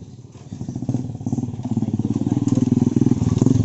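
Aerox and Click motor scooter engines rumbling close by, the buzzing putter growing louder and steadier as the bikes ride past.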